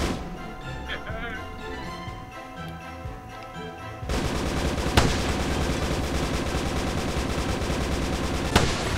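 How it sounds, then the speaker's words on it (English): Rapid machine-gun bursts from toy planes in a VR multiplayer dogfight game, dense and continuous, growing louder and busier halfway through, with a couple of sharp louder cracks near the end. "My guns take a second to warm up, I noticed."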